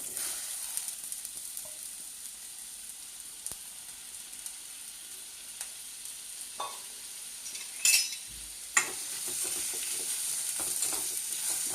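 Three large chopped onions fry in a hot pan with a steady sizzling hiss, broken by scattered utensil clicks and a couple of louder stirring clatters near the end.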